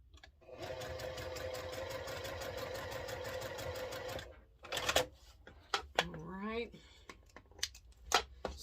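A sewing machine chain piecing quilt squares for a bowtie block runs in a steady rapid whir for about four seconds, then stops, followed by scattered fabric-handling clicks and rustles.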